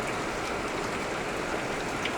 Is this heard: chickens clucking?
no